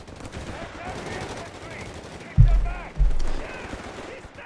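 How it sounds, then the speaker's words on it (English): MG42 machine gun and G43 rifle fire in the Company of Heroes 3 video game: two loud, sharp bursts about half a second apart, standing out over a busy battle background. "This is the MG42 and this is G43."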